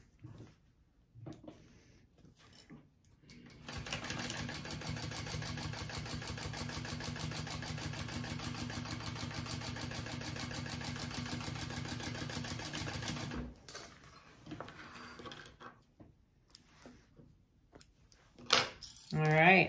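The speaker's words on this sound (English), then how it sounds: "now we're going to top stitch that" A sewing machine top stitches a seam on a bag, running in one long continuous burst of rapid even mechanical rattling for about ten seconds, with quieter handling noises before and after.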